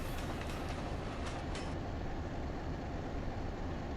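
A train in the Train Sim Classic game on the Boston & Albany route rumbles past nearby, giving a steady loud roar with a brief high screech early on and no talking.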